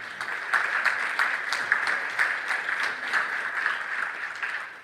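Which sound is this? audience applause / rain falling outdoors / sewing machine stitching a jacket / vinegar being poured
audience applause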